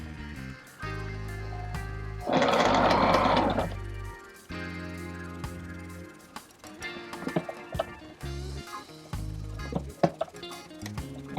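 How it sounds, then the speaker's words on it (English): A Sailrite sewing machine stitching a hatch cover runs in a dense, loud burst of rapid mechanical stitching, then gives way to short clicks and handling noises as the seam is finished. "Now when I get to the end here, I want to go ahead and do another locking stitch."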